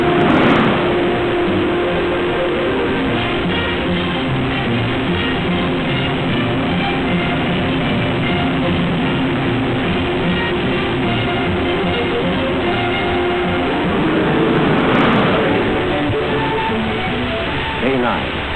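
A 1955 Packard car running flat out on a 25,000-mile durability test at over 104 mph, its engine a steady sustained drone with rolling road noise, heard beneath a narrator's continuous voice.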